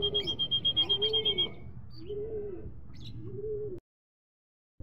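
Racing pigeons coo in a loft after a fun race, a rhythmic series of low, rolling coos with a steady high electronic tone over the first part, then the sound cuts off abruptly.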